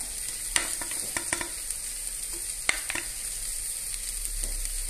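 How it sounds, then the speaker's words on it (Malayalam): Crushed ginger frying in a pan while browning for a parboiled-rice meat biryani, giving a steady soft sizzle with a few sharp clicks of a spoon against the pan and no voices. "3 ടീസ്പൂണ് ഇഞ്ചി ചതച്ചത് ചേർത്ത് കൊടുക്കാം."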